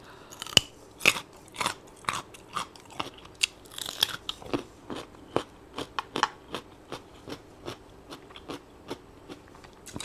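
Korean-style soy-sauce pickled crab is chewed up close, with about twenty sharp, crunchy bites in a steady rhythm, loud and crisp against a quiet background.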